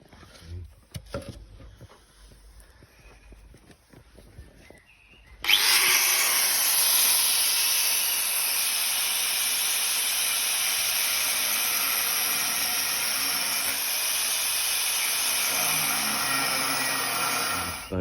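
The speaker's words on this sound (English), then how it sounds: "we're just profiling the I-beam to fit onto the yoke" A few quiet knocks and clatters, then a loud power tool starts up and grinds continuously at a steady high pitch, profiling a steel I-beam at a wharf, until it winds down.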